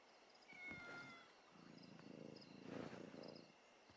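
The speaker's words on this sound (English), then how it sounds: "Oh, I'm holding a cat." A cat held by the player in the game Black Flag Resynced gives several short, faint meows. A quiet purring, rustling bed sits underneath, with no talking.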